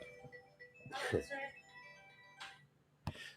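A mobile phone rings with a melodic ringtone, its tonal pattern running through the clip at moderate level beneath a person talking nearby indoors.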